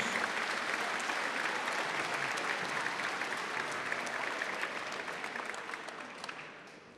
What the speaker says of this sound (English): We may now applaud and recognize your Lamar Vikings